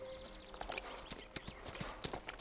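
Horses' hooves clip-clop on hard ground in a steady, uneven rhythm of close, crisp knocks, with faint background noise and no clear talk.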